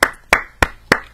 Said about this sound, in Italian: aspetta che applaudo anch'io